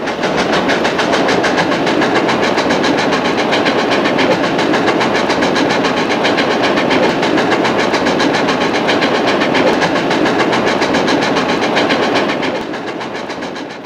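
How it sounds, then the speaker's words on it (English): A train from London to Southampton rumbling loudly along the rails through the English countryside with a fast, steady clickety-clack rhythm, close and continuous, easing slightly at the very end. "before the train reaches Southampton"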